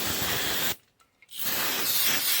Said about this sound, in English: You're going to need brake cleaner, obviously. And an old rag. We're going to spray this down.